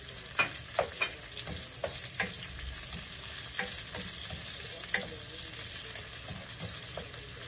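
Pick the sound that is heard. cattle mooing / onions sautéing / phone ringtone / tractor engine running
onions sautéing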